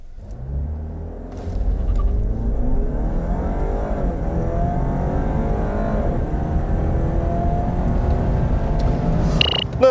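A 2017 Cadillac ATS 2.0T engine pulls hard and steadily climbs in pitch as the car accelerates, loud and close, with a brief shift near the end.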